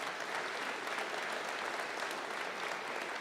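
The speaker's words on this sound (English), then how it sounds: "So let's give them a round of applause for working so hard with you." Dense, steady applause from a large audience honoring school staff at a high school graduation ceremony fills the space, continuous and even without breaks.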